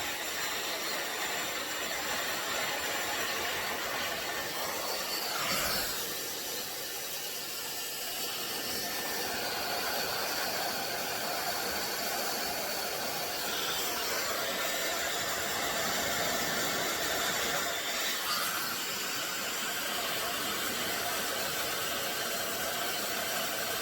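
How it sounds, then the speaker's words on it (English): Steady, continuous whoosh of a blow dryer on low heat aimed at Velcro hair rollers, a broad airy hiss running unbroken at close range with slight shifts as the dryer moves. "And then we're just going to add heat with our blow dryer."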